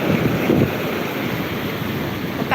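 Stream water rushes steadily nearby in an outdoor rural setting, a continuous broadband wash with wind buffeting the microphone throughout.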